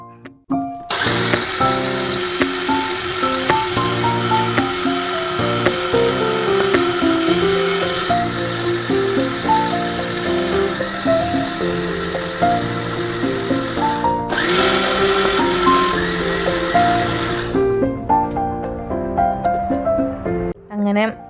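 Kitchen mixer grinder grinding soaked rice with salt and a little water into dosa batter, a loud, steady motor whine running continuously for about twenty seconds before cutting off.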